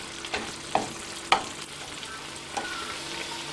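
Eggplant sizzling and frying in butter, with a few sharp scraping stirs of a utensil against the pan over a steady crackle.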